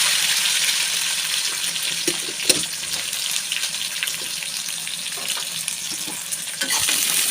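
Garlic and onion fry in hot oil in a pan with fenugreek and mustard seeds, making a steady, loud sizzle with scattered crackles and occasional soft stirring clicks up close.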